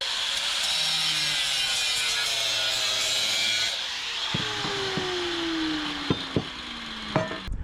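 A blow-off valve flange is cut off a turbo pipe with a power tool, a steady loud whining, grinding cut that fades as the motor spins down. A few sharp metallic clacks and handling knocks follow near the end.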